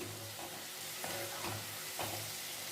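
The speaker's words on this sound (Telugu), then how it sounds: "బెండకాయ కూడా బాగా వేగిపోయింది" Cashews and okra (ladies finger) fry in a pan with a steady close sizzle, with periodic louder scraping bursts from stirring about every half second to a second.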